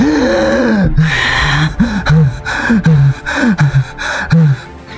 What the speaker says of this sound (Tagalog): kasabay noon ang kanyang biglaang pagmulat, kasabay ng paghinga niya ng malalim